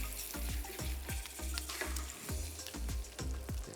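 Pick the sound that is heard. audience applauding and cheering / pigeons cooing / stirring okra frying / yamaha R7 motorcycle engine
stirring okra frying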